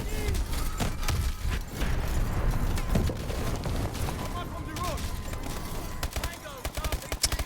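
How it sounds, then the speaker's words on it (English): Bursts of explosions and rapid gunfire from the video game Call of Duty: Advanced Warfare, loud blasts and crackling fire fading into scattered shots and mechanical clatter, with a voice talking over it. "Got distracted by pretty explosions"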